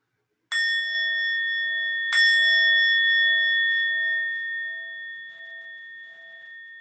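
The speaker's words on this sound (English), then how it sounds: "with the sound of the bell, we'll bring this meditation to a close" A meditation bell is struck twice, about a second and a half apart, each strike leaving a bright, sustained ring that slowly fades in a quiet room.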